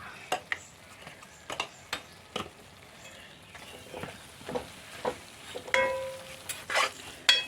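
A spoon stirs chicken masala in a pan with sharp, irregular clinks and scrapes against the metal over a faint, quiet sizzle.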